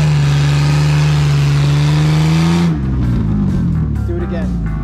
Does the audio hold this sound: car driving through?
yes